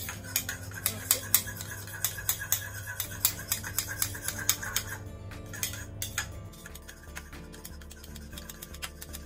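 A spoon stirring a homemade lip and cheek tint mixture in a small container, rapid repeated clinks and scrapes of metal against the dish in a steady rhythm, close and clear with no talking.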